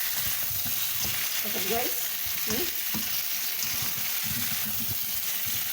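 Chicken sizzling steadily in a hot pan for an adobo-style dish while being stirred, with scraping and shuffling strokes over the constant frying hiss; a voice speaks briefly.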